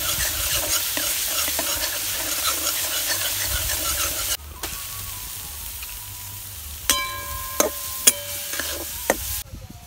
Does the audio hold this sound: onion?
yes